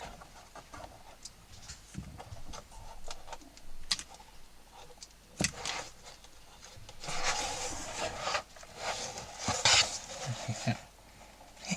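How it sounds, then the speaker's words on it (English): Clamps being taken off a repaired bellows corner on a Hohner Verdi 1 accordion, giving scattered close clicks, taps and scraping rubs of wood and metal with brief louder knocks, no talk. "So I'm going to take the clamps off"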